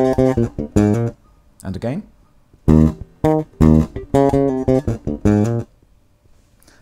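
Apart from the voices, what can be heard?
bass guitar lick with ghost note and hammer-on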